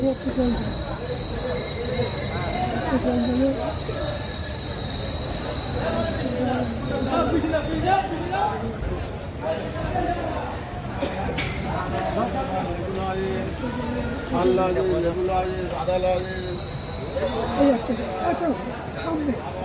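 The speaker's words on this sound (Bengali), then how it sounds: "কাঞ্চনজঙ্ঘা এক্সপ্রেস এখন বর্ধমান জংশনে এসে ঢুকলো।" The Kanchanjangha Express pulls into Bardhaman Junction with rumbling wagons and squealing, screeching wheels, while a crowded platform chatters around it.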